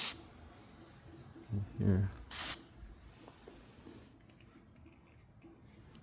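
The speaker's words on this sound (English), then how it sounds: "Okay, I sprayed some there already, so let's try get it to the other side." Aerosol lubricant sprayed onto a noisy garage door gives a couple of short, sharp hissing bursts over faint background noise, with a brief spoken word nearby.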